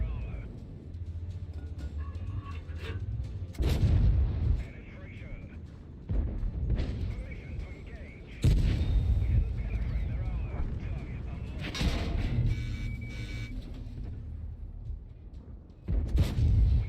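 Artillery fire in the World of Tanks video game: several heavy, booming blasts land at intervals over a steady engine rumble, with someone talking over much of it.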